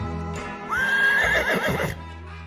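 A Minecraft horse lets out one loud, clear whinny that rises and wavers for about a second, close up, with no talking over it.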